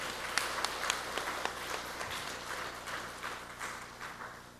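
A church congregation at a Sunday service breaks into a few seconds of steady applause, many hands clapping together at a moderate, even level.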